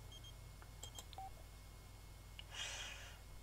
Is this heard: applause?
no